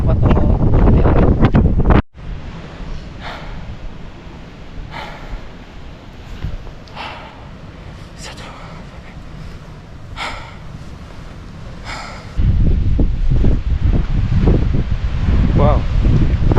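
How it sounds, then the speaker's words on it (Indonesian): Strong seasonal mountain wind blasts past on the Mount Ciremai trail via Apuy, loud buffeting at the start and again toward the end, with a quieter steady whoosh and breathy sniffs between. "Tambah anginnya, wow angin, ini musimnya, musim angin."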